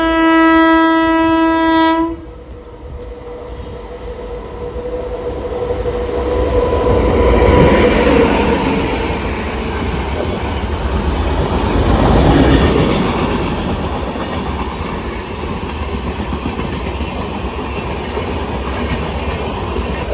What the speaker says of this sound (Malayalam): എറണാകുളത്ത് നിന്ന് ബറോണി വരെ പോകുന്ന രപ്തിസാഗർ എക്സ്പ്രസ് ആണ്.